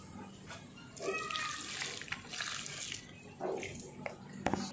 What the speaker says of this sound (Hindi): आज मैं दे देती हूँ पौधे में थोड़ा सा पानी